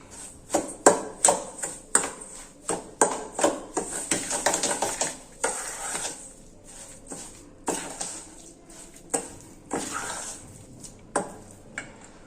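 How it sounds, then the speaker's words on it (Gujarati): A spoon stirs curd into semolina appam batter in a metal bowl, giving sharp, irregular clinks and scrapes against the sides, close and fairly loud, with brief quieter gaps between strokes. "તેમાં આપણે દહીં લેશું, મિક્સ કરીશું"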